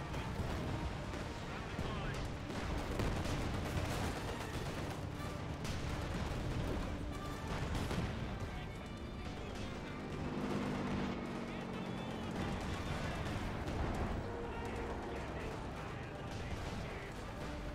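Incendiary artillery fire in a strategy video game makes repeated booming blasts and rumbling volleys, with a voice talking over the battle noise throughout.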